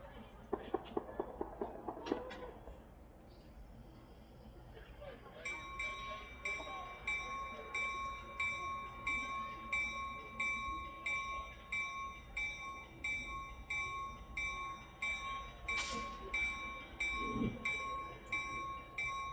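A 120-ton switcher locomotive, number 606, built in 1954 in Illinois, turns slowly on a railroad turntable. Early clanks and knocks give way to a steady rhythmic low rumble overlaid by sustained high whines and tones, with a sharp clank near the end.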